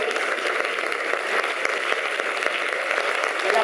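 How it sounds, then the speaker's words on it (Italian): Audience applause at the opening night of a film festival in Milan, a dense, continuous wash of clapping from a large crowd, steady and fairly loud throughout. "Un applauso"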